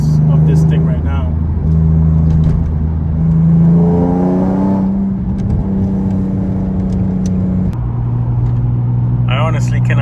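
A car fitted with a DNA cat-back exhaust drives along with a steady, loud engine drone and rising revs through the gears, while a person talks over it.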